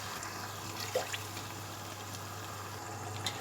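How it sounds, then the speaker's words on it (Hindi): Meat-cooking water being poured into a pot of achaar gosht with pickle spices, heard as a faint, steady liquid trickle with a couple of small splashes over low kitchen hum. "1 गिलास हम इसमें गोश्त गलने का पानी शामिल करेंगे।"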